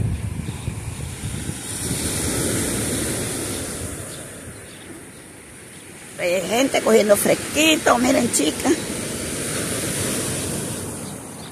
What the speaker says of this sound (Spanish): El mar está bravo.